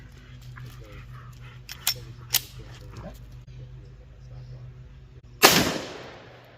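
A single loud 10mm pistol shot, a 155 grain Underwood load fired from a Smith & Wesson M&P, cracks sharply outdoors and trails off in a decaying echo after several seconds of quiet ambience with faint small knocks.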